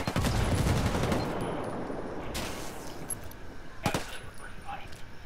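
Frag grenade thrown in a multiplayer shooter video game, with rapid bursts of loud gunfire and sharp blasts filling the clip while voices talk over the action.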